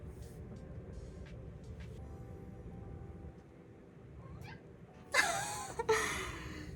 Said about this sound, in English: And my cat just woke up too, apparently.